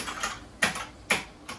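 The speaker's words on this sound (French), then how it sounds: "j'ai ce clavier, c'est un The Gelad, c'est un mécanique" A mechanical RGB keyboard, The Gelad, struck in three crisp, close keystrokes about half a second apart, each a sharp clack with a short decay.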